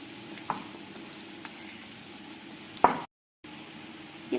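Green gram pakoda batter drops into hot oil with a soft sizzle, a quiet steady frying hiss broken by a few small plops and clinks, then a brief silence before the sizzling resumes.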